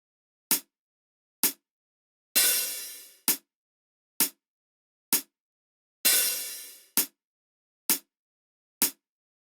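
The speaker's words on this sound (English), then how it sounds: "The metronome beat is 4/4 time" A metronome ticks steadily in 4/4 time; every fourth beat is a louder accented hit with a longer ringing decay. The short, sharp clicks are evenly spaced and heard alone, with no talking.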